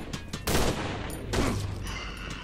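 Gunfire in the horror game Cry of Fear: a few sharp, loud shots ring out with short gaps between them, each followed by a brief echoing tail.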